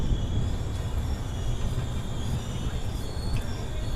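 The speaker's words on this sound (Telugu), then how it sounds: "డ్రాప్లోకి ట్రైన్ అయితే వచ్చేసింది." Express train pulling into a station in rain, a low steady rumble and rolling hum with faint metallic tones, heard from nearby at moderate level.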